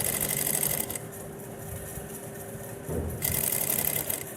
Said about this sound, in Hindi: ऊपर वाली बिल्कुल किनारी पर बुकरम पर हम सिलाई लगा लेंगे